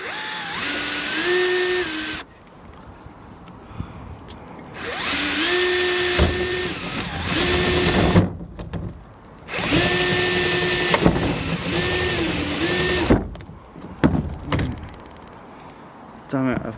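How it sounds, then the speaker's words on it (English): A power drill driving screws into knotty timber during a koi pond roof build, in three long whining bursts that climb and bog down under load, with quieter pauses between them, loud and close. "put the big drill head in"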